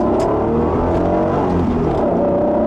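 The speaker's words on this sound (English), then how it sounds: "just that noise, that visceral VTEC rush of that 3-liter V6" A 1992 Acura NSX's 3.0-liter VTEC V6 revs hard and close, a loud rising roar with a raspy edge that carries steadily through the whole moment.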